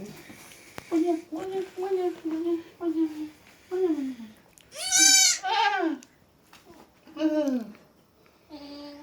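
Three young goat kids bleat close by in a series of high, wavering cries, several in a row with short pauses, one louder and shriller than the rest.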